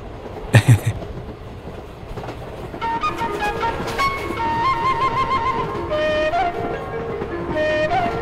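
A passenger train rolls along on a journey, its carriages rattling in a steady clickety-clack, with a brief sharp horn blast near the start and tonal squeals and whines from the wheels and cars that follow.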